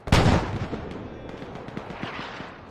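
Incoming mortar shells in Arma 3: one sharp, booming impact at the start that rumbles away, followed by quieter scattered distant thuds and cracks.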